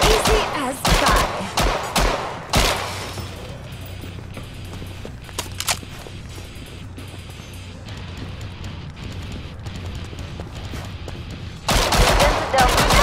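Gunfire in the video game Killing Floor 2: loud bursts of close shots at the start, a steadier rattling stretch, then another heavy burst of rapid fire near the end.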